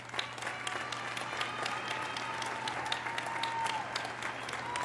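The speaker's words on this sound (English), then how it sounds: "Let's recognize the achievements of these students with a round of applause" A commencement audience applauds cum laude graduates at a fall graduation ceremony, a steady dense wash of many hands clapping with a few sharper claps standing out, continuing evenly throughout.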